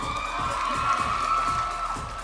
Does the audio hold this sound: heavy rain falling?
no